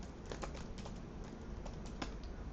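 Close, quiet typing on a computer keyboard, a quick irregular run of soft key clicks over a low background hiss.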